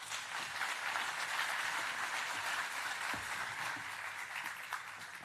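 Audience applause for scientist Elena Gómez-Díaz, a steady dense wash of clapping filling the hall from start to finish at a moderate level, no voices over it.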